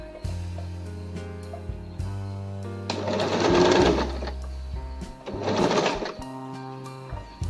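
An Usha Allure DLX sewing machine stitches a buttonhole nearby, with short rhythmic needle bursts separated by pauses and two longer, louder runs of rapid stitching.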